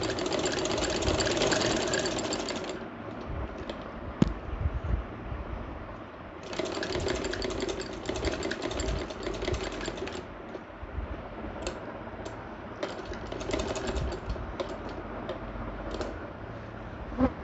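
A sewing machine double-stitches a shirt collar in bursts of rapid mechanical whirring, running for a few seconds, pausing, then starting again with shorter runs near and clear.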